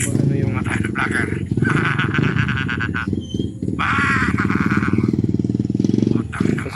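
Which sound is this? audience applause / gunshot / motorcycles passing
motorcycles passing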